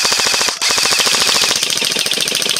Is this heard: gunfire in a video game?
yes